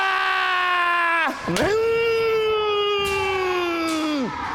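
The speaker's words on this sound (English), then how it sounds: "You're hearing a lot of shouting, what they call battle cries" Martial arts students letting out loud, sustained battle-cry shouts, a long held yell, a brief break, then another drawn-out cry that falls away at the end, close and strained.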